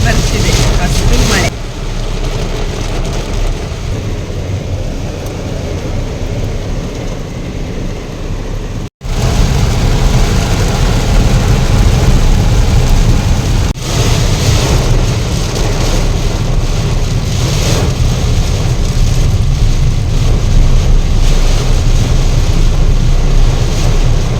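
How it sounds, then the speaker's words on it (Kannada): Heavy wind-driven monsoon rain in Udupi roars steadily as a dense, loud wash of noise, broken by one brief dropout, with no clear voices over it. "ಹೊರಗಡೆ ಎಂಥ ಮಳೆ ನೋಡಿ ಎದುರಲ್ಲಿ ಏನು ಕಾಣ್ತಾ ಇಲ್ಲ ಆ ಟೈಪ್ ಮಳೆ"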